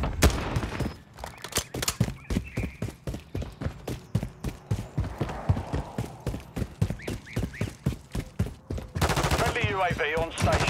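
Rapid bursts of gunfire in a Black Ops video game rattle loudly throughout, with automatic weapons and shots overlapping amid in-game voices and a shouted callout near the end.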